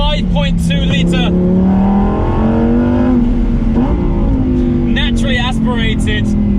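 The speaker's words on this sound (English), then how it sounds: "naturally aspirated V10 engine" A Lamborghini Huracan EVO Spyder's 5.2-litre naturally aspirated V10 roars loudly and continuously at high revs, pitch rising and falling through the revs, with a voice talking over it at times.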